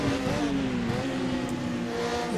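Race car engine in rFactor 2 holding a loud, steady high-revving drone close up, with a slight pitch dip and recovery as it runs continuously without a break.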